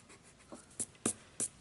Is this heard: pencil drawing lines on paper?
yes